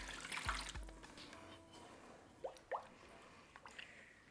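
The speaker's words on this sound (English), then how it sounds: "And we're gonna add some more water." Cold water poured into an apple juice turkey brine, with soft splashing and sloshing plus a few brief drips and squishes, close and fairly quiet.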